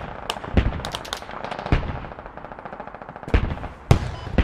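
Heavy .50 caliber machine gun fire in the military shooter Squad, rapid sustained bursts rattling steadily with louder nearby booms punctuating the stream, no talking.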